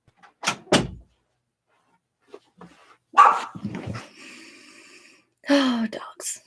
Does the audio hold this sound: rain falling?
no